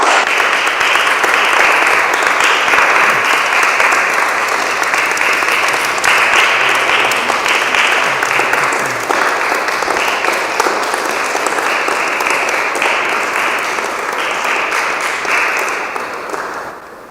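A hall audience gives sustained, dense applause for a city gold medal presentation honouring a song, loud and continuous for about sixteen seconds before tapering off at the end.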